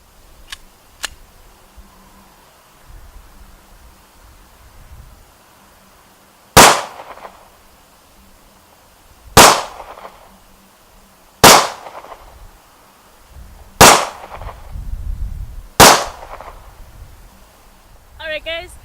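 Five loud, sharp Hi-Point pistol shots at a shooting range, spaced a couple of seconds apart, with quieter handling noise in between.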